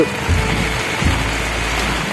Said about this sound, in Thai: ทำไมฝนต้องมาคืนนี้ด้วยอ่ะ